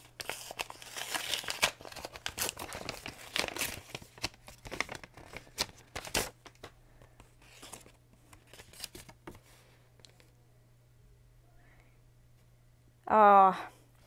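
Paper crinkling and rustling as a Secret Santa gift package is opened, with bursts of handling noise early on that thin out to quiet, then a short loud tearing sound near the end.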